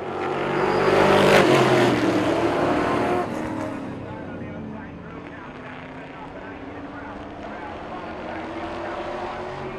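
Stock race cars roar past after a restart, a loud engine rush swelling then easing into a sustained pack drone, with a race commentator talking over it.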